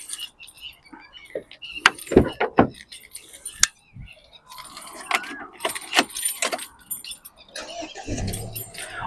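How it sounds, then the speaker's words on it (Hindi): Keys jangle and click as a key turns in the ignition of a Mahindra Scorpio N Z8 Select, a few sharp metallic rattles close by with pauses between and light interior handling noises. "इसको मैं इग्निशन ऑन करता हूँ इसका, और हम मोबाइल पे देखेंगे इसको"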